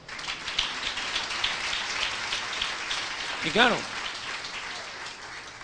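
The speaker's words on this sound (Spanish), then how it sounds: "Fuerte aplauso al Señor." A church congregation claps steadily through a sermon, moderately loud applause under brief talk, with a short vocal sound standing out near the middle.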